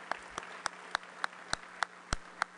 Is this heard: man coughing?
no